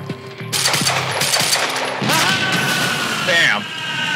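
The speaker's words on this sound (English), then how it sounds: "Slow-mo explosion." A slow-motion explosion in the video game Quantum Break, heard as a dense, loud burst of crackling debris and rumble that holds steady for several seconds, with a player talking over it.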